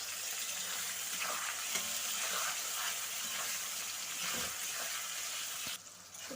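Sliced onions and slit green chilies fry in hot oil in a pan for a mutton curry, giving a steady close sizzle with occasional stirring scrapes and a brief change in tone near the end.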